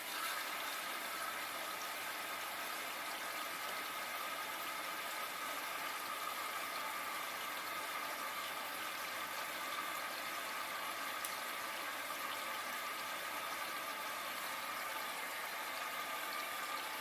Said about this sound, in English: See the water going in the drum.